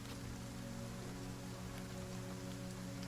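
Steady rain pours continuously at a low, even level, a soft hiss and patter with a faint hum beneath, no voices present.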